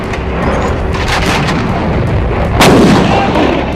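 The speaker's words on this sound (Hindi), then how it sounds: "बम बरस रहे थे" Artillery shells and bombs exploding in a war scene, a dense continuous barrage of booms and blasts with a sharp, louder impact near the end, all close and loud with no talking.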